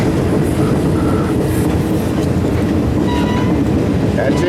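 A train rolls along the rails in Alaska, a loud, steady rumble and rattle of wheels and cars running on without a break, with faint squeals over the top.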